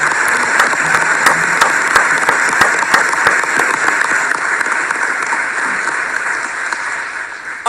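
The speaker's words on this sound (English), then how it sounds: "Give our council members a round of applause." A crowd at a mayoral swearing-in ceremony applauds council members, with steady loud clapping and a few sharp, distinct claps standing out near the front, continuing evenly throughout.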